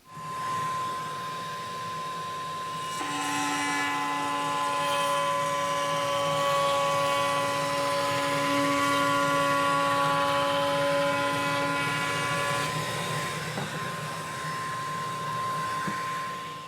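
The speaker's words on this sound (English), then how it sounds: "Next is to round over all these corners so they're not quite so sharp" A power tool, likely a router, rounds over the corners of a wooden fold-down bench vise, a steady high whine that spins up, holds for about ten seconds under load, then winds down, close and fairly loud.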